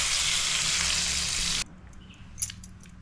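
Pomfret fish frying in a pan, a loud continuous sizzle that cuts off abruptly partway through, leaving quiet room noise with a few small clinks.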